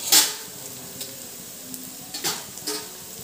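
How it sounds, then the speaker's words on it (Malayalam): Onions and dried red chillies sautéing in a pan for a small prawn fry, with a crisp sizzle punctuated by several sharp stirring scrapes and clinks of a utensil against the pan, close and unaccompanied by speech. "ഈ സമയത്ത് നമുക്ക് ഉണക്കമുളക് ഇതിലേക്ക് ഇട്ട് കൊടുക്കാം."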